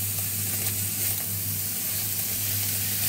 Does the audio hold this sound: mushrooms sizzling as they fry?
yes